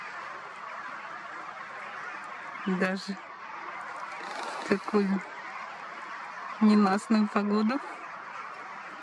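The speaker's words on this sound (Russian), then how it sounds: "Пора уже лететь, утки." Mallard ducks quack in short bursts at several moments, some clustered together, heard outdoors in bleak autumn weather while a voice talks over much of the scene.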